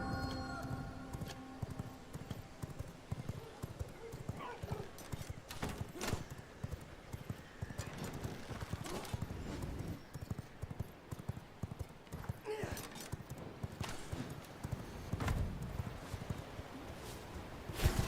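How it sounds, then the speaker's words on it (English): A summoned horse in the video game V Rising gallops with rapid, continuous hoof clip-clops and an occasional whinny, close and loud, under game sounds and a player's speech. "Let's summon my horse."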